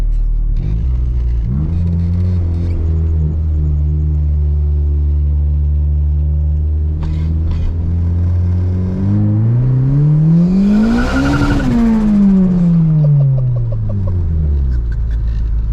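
A turbocharged Acura RSX Type S engine on a dyno revs steadily, climbs sharply to a peak and bounces off the rev limiter, then winds back down; loud, close, no talking.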